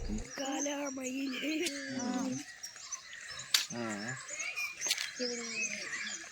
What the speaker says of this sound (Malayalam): രാവിലത്തെ ആ കിളികളുടെ ശബ്ദം നല്ല രസമാണ് കേട്ടോ കേൾക്കാൻ